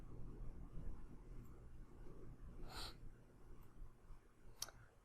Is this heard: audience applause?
no